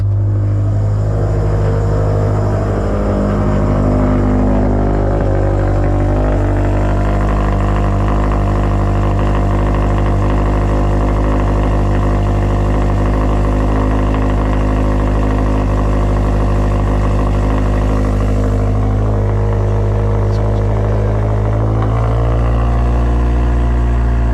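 A turbocharged car on a first pass pulls away as the clutch is let out, its loud, close engine rumbling steadily with a deep hum and rising harmonics, then easing into a lower drone near the end.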